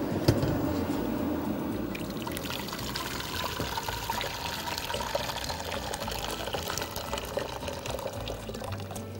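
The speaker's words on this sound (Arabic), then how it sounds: "بص، مية مغلية" Boiling water is poured into a pot in a home kitchen, a continuous splashing, trickling stream running close and steady for the whole stretch without talk.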